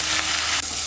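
Paneer cubes, lightly salted, fry in hot oil with a steady close broadband sizzle that runs without a break and briefly dips near the end, with no talking.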